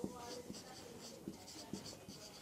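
A pen scratches on paper while triangle working is written out for a class 8 math lesson, soft, close strokes in short bursts with light taps, heard beneath a low talking voice.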